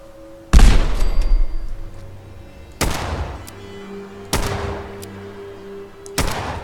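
Several loud explosive blasts in the Fallout 4 video game: a big grenade-like boom near the start, then three further sharp bursts spaced a few seconds apart, each followed by a decaying rumble, with no talk.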